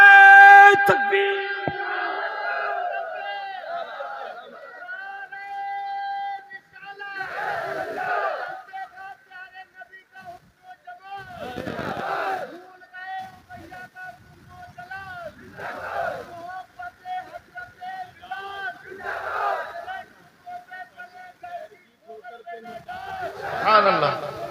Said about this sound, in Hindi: आला हजरत पे नारे तकबीर